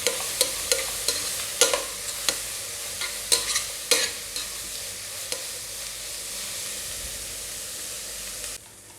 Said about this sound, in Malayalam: ഇതൊരു 4 പച്ചമുളകാണ്. അതുകൂടി ചേർത്ത് നമുക്ക് നന്നായി വഴറ്റിയെടുക്കാം.